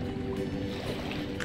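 Water in A Plague Tale: Requiem, a brief stretch of close sloshing and gurgling like a boat moving through it, steady and moderately loud.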